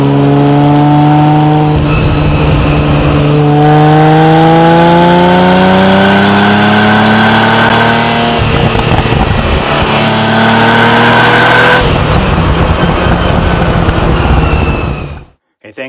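A Ferrari engine drives through a road tunnel, a loud, close, sustained roar that rises in pitch through the gears with sharp shifts between them, echoing off the walls before cutting off at the end.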